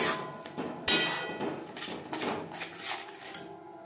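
A small garlic clove crushed in a kitchen for a fish curry, a run of close, sharp knocks and clinks of metal on a hard surface, about half a dozen uneven strikes with no talk.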